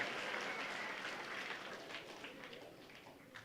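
Audience applause at a middle school award ceremony, steady clapping from a crowd heard at a distance, fairly faint and even, with no voices over it.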